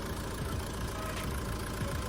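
A 1.9 liter DCI diesel engine runs in a steady, rough idle, a constant dense clatter and rumble with no pauses and no voices.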